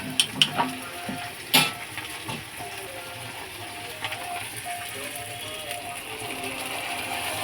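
Chopped red and green chilies poured into hot oil, starting with a few sharp clanks and a loud pour, then a steady low sizzle of frying that continues quietly with no talk.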